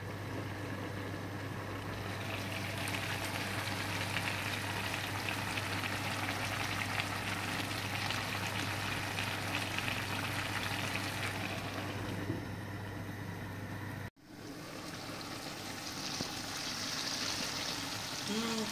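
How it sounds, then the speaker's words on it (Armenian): Green beans simmer gently in a covered pot over a low flame, giving a steady, soft, hissing bubble that runs on evenly with one brief break near the end. "մարմանդ կրակին շատ հանգիստ եփում ենք"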